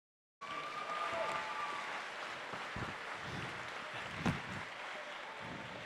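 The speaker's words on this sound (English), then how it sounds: "You guys give yourself a round of applause." Students at a fall new student orientation applaud. The clapping starts abruptly and continues evenly for several seconds as a steady wash, with one sharp louder clap near the end.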